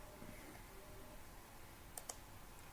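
Two quick, crisp mouse clicks stand out sharply against a very quiet, near-silent room background, with no voice over them.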